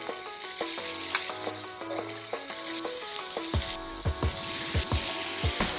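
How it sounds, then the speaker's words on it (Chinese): Steamed eggplant pieces fry in hot oil in a pan with a loud, steady sizzle, cut by regular sharp clinks and taps of a utensil that grow stronger in the second half. "锅热之后加油，"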